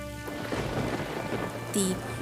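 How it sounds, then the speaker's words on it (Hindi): Steady heavy rain with deep rumbling thunder in a Hindi cartoon storm scene, loud and continuous throughout with a brief high chirp near the end. "फिर बेचारी मीनू चिड़िया निराश होकर बारिश में भीगती हुई एक घने वृक्ष की मोटी डाल पर बैठ गई"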